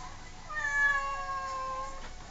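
A cat gives one drawn-out, wavering meow close by, clear and alone against a quiet background.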